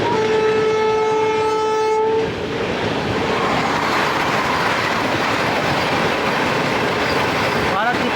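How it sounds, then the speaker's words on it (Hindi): The New Delhi–Varanasi Vande Bharat Express passes close by, opening with a loud sustained horn blast that cuts off into a roaring rush of wheels and carriages, with a short squeal near the end. "नंदनकानन के बाद आ रहे हैं दोस्तों नई दिल्ली वाराणसी वंदे भारत एक्सप्रेस।"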